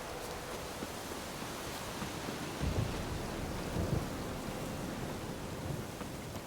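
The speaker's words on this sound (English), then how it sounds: "A storm, damn it." A thunderstorm in The Witcher 3 gives a dense, steady wash of rain with low rumbles of thunder swelling briefly in the middle. The sound stays broad and constant with no voices.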